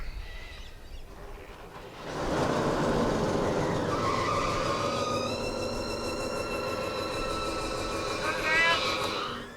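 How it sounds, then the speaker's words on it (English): A truck engine in the Australian outback cranks over and catches, then runs loud and rough with a grinding, whining mechanical roar that lingers after a quieter start, with voices under it. "The engine's running, but it's far from fixed."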